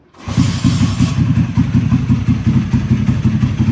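A Delta YX 160 motorcycle engine starts up and runs at a steady idle, a close, loud, even putter with a mechanical clatter that carries on without a break.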